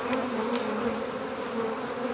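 Honeybees buzzing in a steady, droning swarm tone right after a spring hive inspection, once the cover and burr comb have been dealt with; the hum is continuous, fairly close and loud, with no talking.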